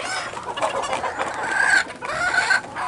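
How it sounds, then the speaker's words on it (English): A rooster crows and clucks at moderate distance, a few rising drawn-out calls with short clucks between them, alone without speech. "Right there, that rooster."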